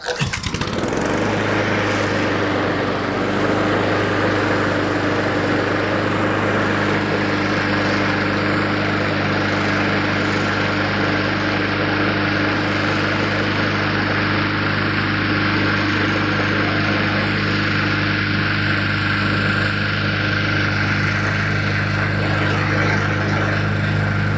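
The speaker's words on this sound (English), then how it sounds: "So we're gonna go ahead and fire this up." A Honda 21-inch walk-behind self-propelled lawn mower engine runs steadily at close range, a loud continuous drone with a low hum that holds without pause.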